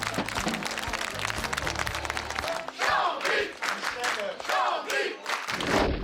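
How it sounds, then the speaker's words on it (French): A crowd cheers and applauds the FC Chambly football players, hailed as town heroes, with dense clapping and shouts that swell and fall in bursts, fairly close and loud. "Acclamés, applaudis, les joueurs du FC Chambly, véritables héros de la ville hier soir."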